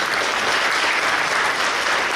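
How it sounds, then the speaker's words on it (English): A steady burst of applause from a crowd at a firefighter academy and emergency communications academy graduation, loud and continuous for a couple of seconds. "Khalees LeCompte, give a round of applause."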